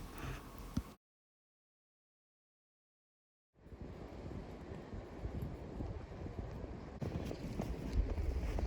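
Strong wind buffets the microphone on a windy evening outdoors on a homestead with mountain views, a steady broadband roar that drops out briefly, then returns and swells louder near the end.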